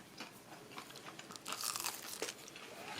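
Biting into cooled, deep-fried arancini filled with truffle risotto and cheese makes crisp crunches, several sharp close-up crackles of the fried crust followed by softer chewing, faint and intimate with no talking.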